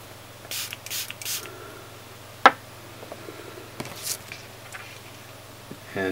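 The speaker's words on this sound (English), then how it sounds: "And they say to spray your fingers too" A pump spray bottle of screen protector installation solution mists onto fingers during an iPhone 6 Plus wet install, a few short hissing bursts close by with quiet handling ticks between.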